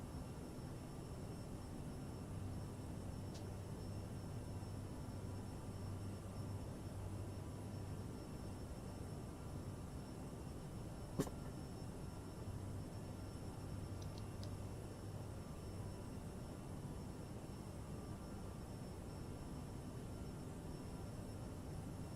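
Simulated Aerosoft CRJ700 regional jet in Microsoft Flight Simulator cruising over New Zealand, a faint, steady engine hum and cabin drone continuing evenly with a single short click midway.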